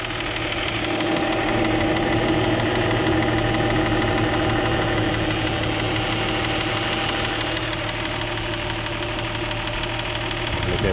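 A Chrysler/Dodge 3.5L V6 idles steadily while warming up after a timing kit job, a continuous close engine drone with a faint knocking tick running evenly throughout.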